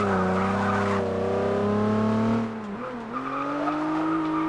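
A Nissan 350Z with a welded differential is held at steady engine drone through a tight corner, then a brief dip with choppy, hopping pitch wobble as the tires scrub and skip before the revs settle back up.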